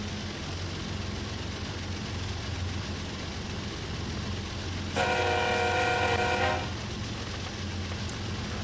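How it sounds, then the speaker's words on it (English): A train passes in Train Sim World 2 on the Horseshoe Curve: a steady low rumble runs throughout, and a loud tonal horn blast of about two seconds rises in the middle before the rumble continues alone. "Let's go and see our train pass."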